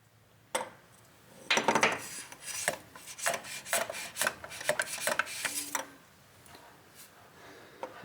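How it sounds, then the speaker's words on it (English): Piston ring pushed down inside an engine cylinder on a Green Diamond motor during a ring job, a series of short scraping and rasping metal rubs, irregular and fairly close, with quiet gaps between them. "So this piston ring is a little over halfway down the cylinder right now, so I'm going to push it down a little bit further."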